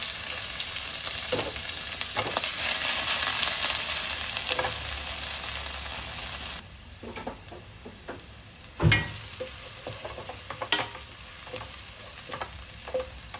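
Garlic and ginger fry in a hot non-stick pan, with a loud steady sizzle that drops in intensity partway through, joined by occasional clanks and scrapes of stirring.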